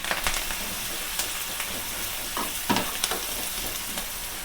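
Mustard seeds, cumin, ground green chili and curry leaves frying in hot oil for a millet pongal tempering, a steady close sizzle broken by sharp pops and crackles throughout.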